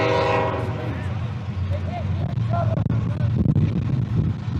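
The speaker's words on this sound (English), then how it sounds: "We'll let this train serenade you for the remainder of this game." A train horn blares at the start of a quadball match between Texas A&M and Sam Houston State. A rumbling passing train follows underneath, with a commentator talking over it throughout.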